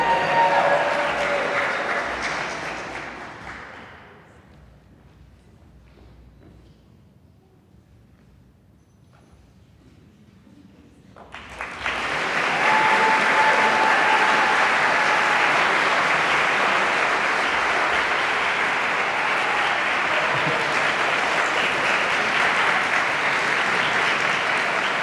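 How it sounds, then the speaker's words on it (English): Applause at an Air Force ROTC commissioning ceremony for new lieutenants, loud clapping at first, fading to near silence, then a fresh sustained burst of full crowd applause that carries on steadily to the end. "a round of applause for the Air Force's newest lieutenants"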